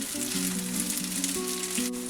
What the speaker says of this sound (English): And we'll add the basil pesto sauce. And we'll just mix it.